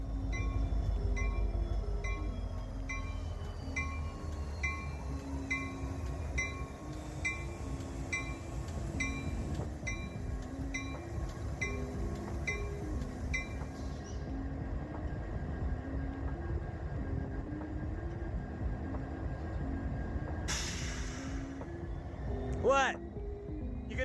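A train rumbles steadily throughout, with a rhythmic low clatter, a continuous drone and a brief high screech near the end.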